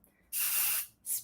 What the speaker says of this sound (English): I'm just going to spray up into the ponytail